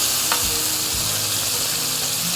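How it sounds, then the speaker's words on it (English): Bacon frying in a pan with a steady, loud, continuous sizzle and crackle. "my bacon's ready to flip"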